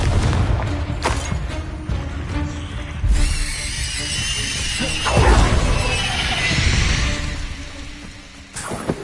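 Spell blasts from the Hogwarts Legacy video game, the Incendio fire spell and the Confringo blasting curse, give loud booming, crackling bursts that repeat over a dense, continuous wash of game noise.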